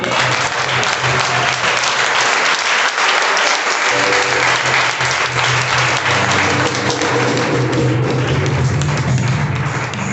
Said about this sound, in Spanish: ¿Puede darle otro fuerte aplauso al Señor?